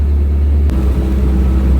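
A 1937 Morgan F2 classic car with an upgraded engine drives on the road, its low engine drone and rumble steady and close, with a brief click partway through.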